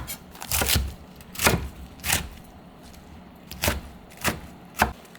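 Kitchen knife chopping napa cabbage into spoon-sized pieces on a cutting board for water kimchi, with six sharp, separate thunks in an uneven rhythm, close and fairly loud, no talking.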